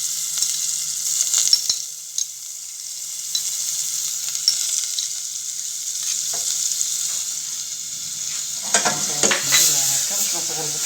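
Butter sizzling and frying in a hot pan while pizza with liquid cream is made, a steady close hiss running throughout, with brief clinks and a busier burst of stirring and pan noise toward the end.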